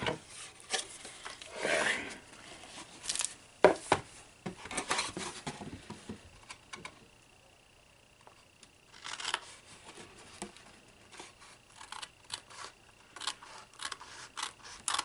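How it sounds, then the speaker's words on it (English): Scissors cut paper or card along an edge for a handmade love-letter mailbox craft, close-up rasping snips in short bursts separated by quiet pauses. "it's better with scissors, y'all. Just cut it right on the edge there"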